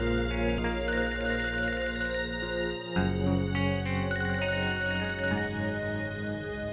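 Telephone ringing late at night in a home, a repeated electronic ringtone melody, close and steady under background music tones, no talk.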